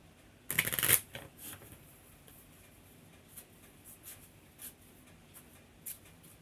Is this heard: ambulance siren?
no